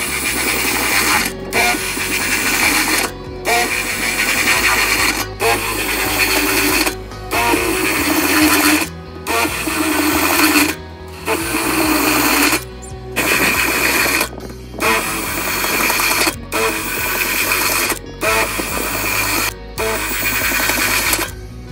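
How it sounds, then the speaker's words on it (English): A unibit step drill bores holes in a steel burn barrel, a loud whining grind in repeated bursts of about two seconds, each separated by a brief pause as the bit moves to the next hole. "It's unibit time. We're gonna drill all these out."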